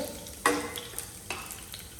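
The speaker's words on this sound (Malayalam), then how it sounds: "ഇതാ ഞാൻ എണ്ണയിലോട്ട് വെളുത്തുള്ളി ചെറുതായി കട്ട് ചെയ്തിട്ട് അതിലേക്ക് ഇട്ടെടുത്തിട്ടുണ്ട്" Finely chopped garlic drops into leftover frying oil in a home kitchen pan, giving a sharp burst of sizzle followed by a soft crackle and a few light stirring clicks.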